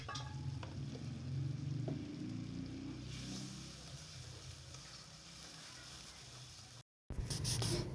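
Turmeric, chili and coriander powder fry in oil in a pan for tilapia curry with bottle gourd, a steady close sizzle with occasional stirring scrapes, briefly cutting to silence before the frying noise returns.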